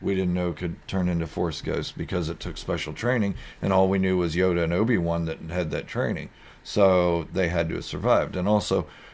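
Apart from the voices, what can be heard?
No everyday noises stand out.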